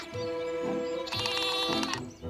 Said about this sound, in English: You'll have to leave the goat with us, too.